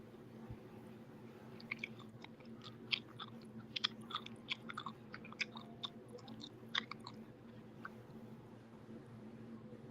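Gum is chewed close up with wet clicks, smacks and little crunches that come in irregular bursts over a low steady hum, all of it faint, with no talk.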